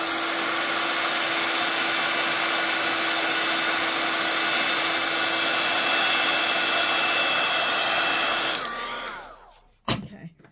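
A heat tool melts embossing powder on a stained-glass style craft piece, roaring loud and steady like a hair dryer for about eight seconds, then cutting off and winding down, followed by a brief clunk.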